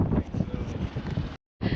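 Wind buffets the microphone in a spring garden with low, rumbling gusts that rise and fall. There is a short silent gap, then the wind returns.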